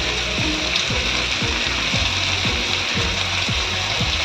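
Chili powder, turmeric and spices fry in a hot pan for a mushroom tawa masala, with a steady close sizzle and a regular rhythm of stirring strokes scraping through roughly every half second.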